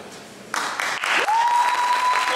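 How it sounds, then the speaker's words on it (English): An audience at a Richland One Middle College graduation claps for the graduating class, a burst of many hands applauding loudly and steadily, with a sustained electronic tone rising and holding in the background. "clap the hands for the graduating class"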